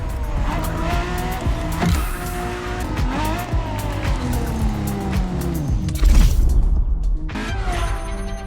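A Ferrari LaFerrari hybrid supercar is driven in the racing game The Crew Motorfest, its engine revving loudly and rising through gear changes, with tire squeals and skids throughout.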